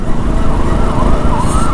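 An ambulance siren wails through heavy road traffic, its rising and falling tone riding over loud, continuous engine and road rumble from nearby vehicles, with no talk.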